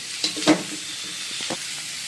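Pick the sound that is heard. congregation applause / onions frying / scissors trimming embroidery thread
onions frying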